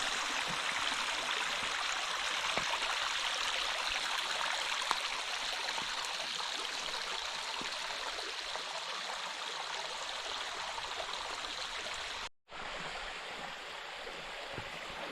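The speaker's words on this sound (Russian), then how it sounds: "а тут такая прекрасная вода бежит" A mountain stream near a cave in Crimea flows steadily, a loud continuous rushing babble close by, with a momentary cut just past the middle.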